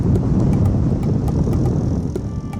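A military surveillance drone flies overhead over a combat zone in Burkina Faso's Centre-Nord, a steady loud engine drone with wind rush filling the whole stretch.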